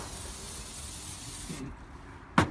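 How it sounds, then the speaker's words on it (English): A steady aerosol hiss of cooking oil being sprayed, lasting over a second before cutting off, followed by a sharp clink of a plate set down. "spray our oil on it"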